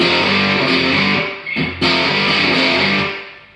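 Heavily distorted electric guitar chords grind loud and thick, with a brief cutoff midway before the crunchy chord returns and rings out.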